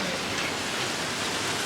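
Heavy rain pouring on a street in China, a dense, continuous hiss of water hitting pavement, loud and close with no pauses.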